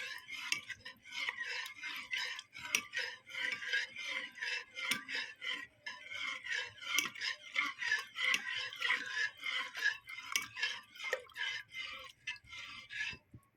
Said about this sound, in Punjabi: ਕੜੀ ਨੂੰ ਪਹਿਲਾਂ ਉਬਾਲਾ ਆਉਣ ਤੱਕ ਹਿਲਾਉਂਦੇ ਰਹਿਣਾ ਹੈ ਲਗਾਤਾਰ ਬਿਲਕੁਲ ਵੀ ਰੁਕਣਾ ਨਹੀਂ ਹੈ